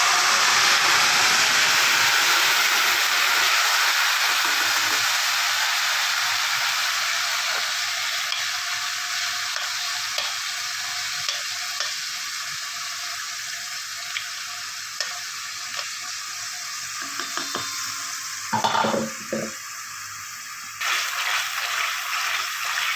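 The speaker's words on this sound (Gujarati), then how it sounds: "હવે આ તેલ આવી ગયું છે એમાં આપણે આ જે ટમેટોની પ્યુરી કરી છે એ એડ કરી દઈશું" Tomato puree hitting hot oil in a pan gives a loud, steady frying sizzle that gradually eases, with occasional stirring clinks and bubbling pops toward the end.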